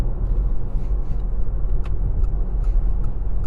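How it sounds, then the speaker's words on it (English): A 2022 Mitsubishi Outlander compact crossover accelerates up onto a highway, heard from inside as a steady low engine and road rumble with a faint whir, loud and continuous. "It doesn't feel great, it doesn't sound great accelerating, but we are getting up on the highway."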